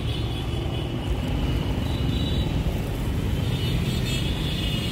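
Road traffic passes on a busy street, a continuous close rumble of car and motorcycle engines with steady tire noise and no voices.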